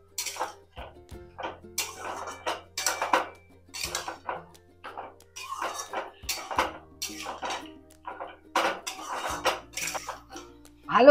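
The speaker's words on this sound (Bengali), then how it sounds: "এবার আমি সবকিছু ভালো করে নেড়ে নিচ্ছি।" Mutton being stirred with yogurt and lemon juice in a pot for bhuna gosht, giving repeated scraping clinks of a spoon against metal in an uneven rhythm, close and moderately loud.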